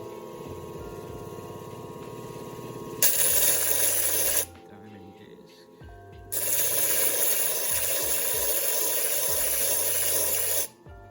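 A moss agate slab is ground on an 80 grit wheel in two loud bursts of rough, hissing abrasion separated by a quieter stretch of motor hum, ending abruptly.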